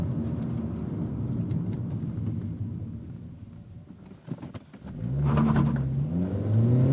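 A 2010 Acura TSX with a six-speed manual and K24 engine accelerating hard, heard from inside: a steady engine drone and road noise, a brief dip at a gear change, then a louder, rising rev.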